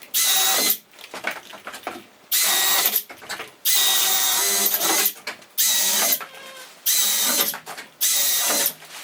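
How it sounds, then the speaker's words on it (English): Power drill boring holes during home electrical work, six or seven loud bursts of roughly a second each, separated by short pauses filled with quieter handling clatter. "Let me drill the rest of the holes"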